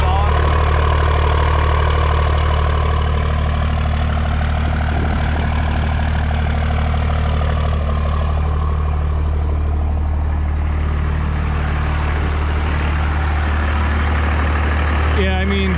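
A 2004 Dodge 3500 dually pickup with a Cummins diesel and a 4-inch exhaust idles loudly and steadily with a deep, throbbing low rumble, while someone talks over the engine.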